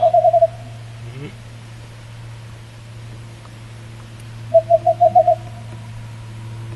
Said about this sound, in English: There's another screech owl.